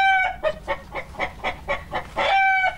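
Laying hens in an old pen cluck loudly and close by, a rhythmic series of about eight short clucks bracketed by longer drawn-out calls.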